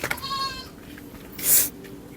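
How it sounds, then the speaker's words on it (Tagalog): A goat bleats nearby with a wavering, nasal cry, followed by rustling outdoor background noise and a short burst of hiss. "Kala ko kung ano, kambing lang pala."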